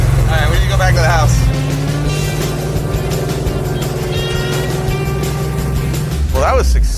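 A 1985 Chevy Monte Carlo G-body drives with a loud, steady engine drone and rumble. Voices talk over it, and the tone rises as it picks up speed near the end.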